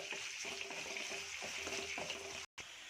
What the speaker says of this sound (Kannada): ಈರುಳ್ಳಿ ಬಣ್ಣ ಬದಲಾಗಬೇಕು ಅಲ್ಲಿವರೆಗೂ ನಾವು ಫ್ರೈ ಮಾಡ್ಕೊಳ್ಳೋಣ ಲೋ ಫ್ಲೇಮಲ್ಲೇ ಚೆನ್ನಾಗಿ ಫ್ರೈ ಮಾಡ್ಕೊಳ್ಳಿ